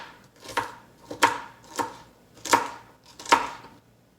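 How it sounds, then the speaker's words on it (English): A knife chops zucchini into small pieces on a cutting board, five distinct, evenly spaced thuds close to the listener, each with a sharp crisp edge, with no voices. "we're just going to go ahead and cut these in small pieces"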